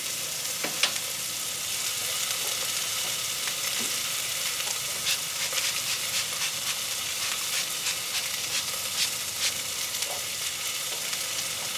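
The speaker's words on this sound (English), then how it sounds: "put our shrimp on there" Shrimp sizzle and fry on a hot griddle at a cook shack, with a steady crackling hiss and scattered pops throughout.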